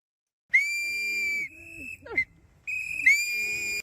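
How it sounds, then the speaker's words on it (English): Protesters blow shrill whistles at a street protest, with sustained piercing blasts near the mic and a short break in the middle, plus a few shouting voices. "Y'all out there with y'all whistles. What are the whistles gonna do?"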